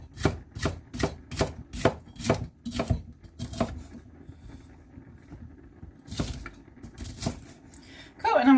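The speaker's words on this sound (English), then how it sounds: "I'm just gonna roughly slice this" A knife roughly slicing vegetables on a cutting board for a stir fry, a quick run of about nine sharp chops, a pause, then a few more cuts close up.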